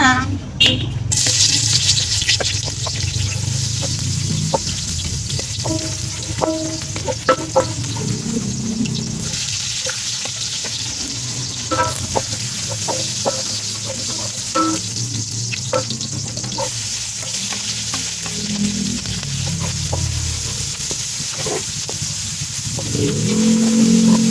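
Cooking oil sizzling in a hot pan for sautéing, a steady frying hiss throughout with clinks of utensils and stirring, while a person talks over it.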